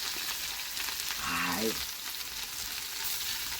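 Loud, continuous sizzling of crushed ginger and garlic frying in hot oil, up close, with a short vocal sound rising briefly over it.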